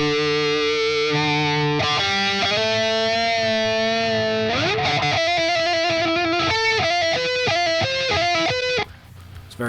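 Electric guitar through a Fortin Nameless amp sim on its default setting plays a harsh, heavily distorted lead line: held notes, then a bend and quick picked runs with strong pick attack, loud and up front.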